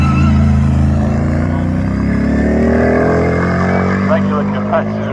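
A hillclimb race car powered by a 4.2 litre turbocharged Audi V8 roars past with a steady, rising engine note and then fades slightly, loud and close, with a commentator talking over it.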